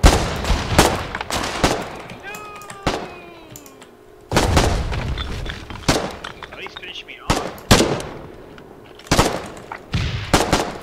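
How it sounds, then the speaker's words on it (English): Grenade launcher firing in the war game Foxhole, with loud, sharp blasts and explosions arriving in irregular bursts with gaps between them, some near and punchy, while players talk over the action. "Get that grenade launcher up."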